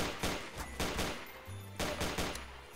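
A gun fired repeatedly in a video game weapon test, a rapid run of loud, punchy shots in an uneven rhythm with brief pauses between bursts, close and dominant with no talk.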